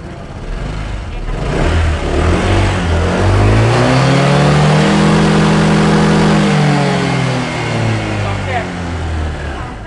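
Honda PCX160 scooter engine on a stand with the rear wheel lifted, revving hard up to the rev limiter: a loud, rising whine that climbs, holds near the limit and falls back, with voices talking over it.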